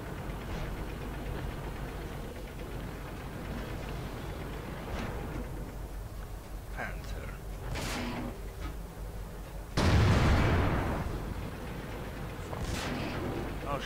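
An enemy tank shell strikes and penetrates a KV-3 tank in the World of Tanks video game: one loud, deep boom late in the clip cuts through a steady engine rumble, with fainter gunfire earlier.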